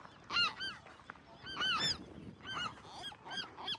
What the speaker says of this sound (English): Everywhere you turn, there's a gull with a nest with eggs or babies.